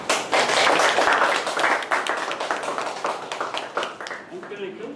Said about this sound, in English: Huge round of applause for